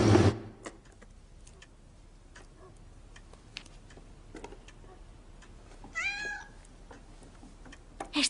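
A cat lets out a short rising meow near the end, faint under a soft steady ticking like a clock, with a brief louder thump at the start.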